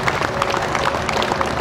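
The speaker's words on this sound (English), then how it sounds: "the fire department of New Paltz, New York, can we give them a little round of applause" Crowd at a 9/11 memorial dedication in New Paltz, New York, applauding the town's fire department, a dense burst of close clapping filling the short moment.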